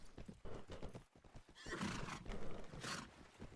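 Horses in the Mount & Blade game setting a gathered band of riders, with whinnying neighs and clip-clopping hooves, the hoofbeats rhythmic and steady while a loud neigh rises near the middle and another near the end.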